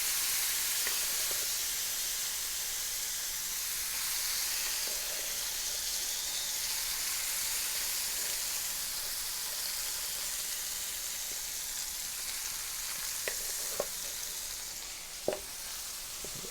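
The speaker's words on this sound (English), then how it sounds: "I'll just kind of pick them up out of the dressing and add them to the fry pan" Marinated mushrooms fry in a pan with a steady, close sizzle and hiss that fills the whole stretch, broken by a few small pops and utensil clicks near the end.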